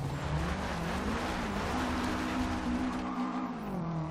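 A 1963 VW Beetle on a drift build in the video game Forza Horizon 2, engine droning steadily with a rising and falling pitch and a continuous hiss of tires sliding, with no talk.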